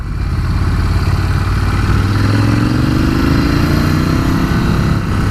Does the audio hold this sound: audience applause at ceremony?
no